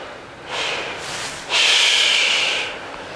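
Deep breathing during a meditation exercise: a long hissing breath that swells, pauses briefly, then surges into a stronger, sustained exhale close to the microphone, with no talking.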